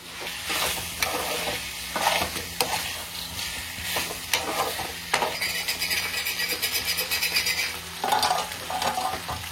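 Chicken and fried potatoes coated in masala get stirred in a sizzling pan, a close crackle of frying punctuated by repeated spatula scrapes and light clinks against the metal.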